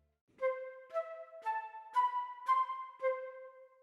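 A short, detached line from a sampled flute virtual instrument (Synchron Prime Edition default staccato patch): bright, clipped notes played at a steady pace, clean and fairly quiet.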